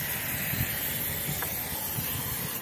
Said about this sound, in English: I'm just gonna spray a little bit of brake cleaner on this.